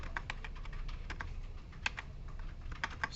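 Steady, close typing on a computer keyboard in a programming lecture, the keys clicking in an irregular but continuous rhythm with a few sharper strokes, without any talking.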